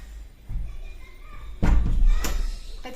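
A door is pushed shut at home with a loud, heavy slam and thud, followed by a second bang a moment later, over faint room noise.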